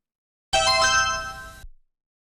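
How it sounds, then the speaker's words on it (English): A short electronic jingle from an FM Towns commercial, set as a phone's text message tone, plays once for about a second with bright stacked tones, then cuts off cleanly. "now you can make the FM Towns commercial noise your text message tone"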